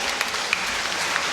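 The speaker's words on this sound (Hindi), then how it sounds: "ताली बजा देंगे हम लोग" Audience clapping at a school prize announcement during a Mission Sunday event, a faint, steady patter of applause with a few sharper claps.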